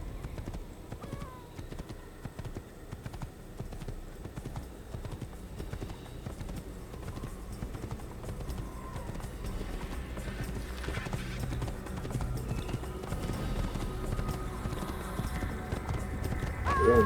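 A black horse in the 2007 video game Assassin's Creed gallops with steady, rapid hoofbeats that keep up throughout. A whinny breaks in along the way, and game ambience sits beneath it.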